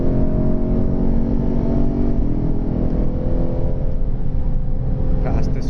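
A Lexus RC F driving hard on the throttle while passing a Civic gives a loud, steady engine drone with dense low rumble that builds slightly, heard from inside the car with continuous road and engine noise.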